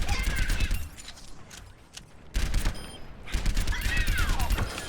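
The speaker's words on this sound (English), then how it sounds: "Going for just the headshots and just controlling this burst fire." Soldier 76's burst-fire rifle in Overwatch, rapid clusters of sharp gunshots in repeated bursts with a short lull midway, game effects and announcer-like sounds layered over them.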